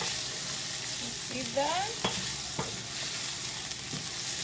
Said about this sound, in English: my onions and everything else is cooking nicely